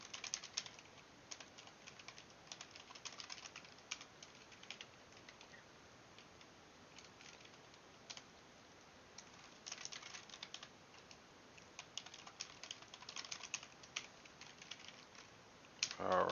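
Code is typed on a computer keyboard in quick, light clicking bursts separated by short pauses, faint and close, with low background noise.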